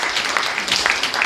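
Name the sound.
audience clapping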